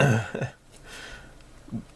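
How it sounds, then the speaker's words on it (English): A single short, throaty burp comes first, followed by near silence with a faint small vocal sound near the end. "Assuming I just burped."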